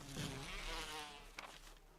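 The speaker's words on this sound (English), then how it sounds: "Oh, no. Bees! Bees!" Bees buzz in a video game: a dense, steady insect drone, faint and continuous, with a brief louder swell partway through and no talking.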